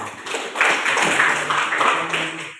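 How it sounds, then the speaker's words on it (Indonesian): A group gives a round of applause at a school event at SMA Negeri 6 Borong, with scattered hand clapping building and sustaining across the room, a voice briefly heard beneath it. "bisa berikan tepuk tangan"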